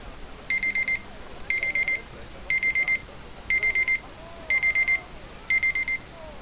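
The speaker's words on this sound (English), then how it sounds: "That's my incident alarm." An incident alarm from the Planet Zoo video game repeats as clipped electronic beeping bursts, six evenly spaced groups of rapid tones about once per second, loud and clear over a quiet background.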